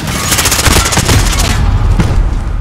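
Dense gunfire in Call of Duty Modern Warfare multiplayer, a loud, rapid burst of overlapping automatic shots and impacts close by, thinning out toward the end.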